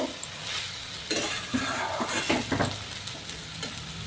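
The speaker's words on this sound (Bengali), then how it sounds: "এবার এটিকে ভালো করে ভেজে নিতে হবে।" Vegetable momo filling fries in a pan, a moderate close sizzle broken by several scraping stirs and light utensil knocks against the pan.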